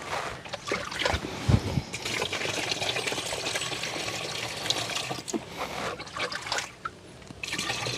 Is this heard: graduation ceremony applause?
no